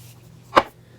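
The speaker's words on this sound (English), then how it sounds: "Again, spraying the face" A single short, soft spritz of a makeup setting spray onto a face, close by, in an otherwise quiet room.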